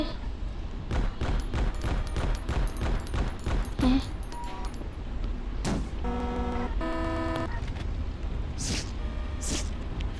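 Shotgun and other gunfire crack repeatedly in the mobile shooter game Playback 2, a rapid train of sharp shots followed by game tones and a few later blasts, over a constant background hum.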